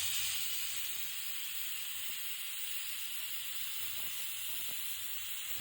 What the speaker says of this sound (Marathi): आता कुकरला 4 शिट्ट्या करून घेते